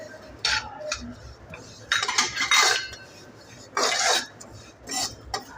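Sesame and poppy seeds get stirred in a pan, a utensil scraping and clinking against the metal in several short bursts separated by quiet pauses.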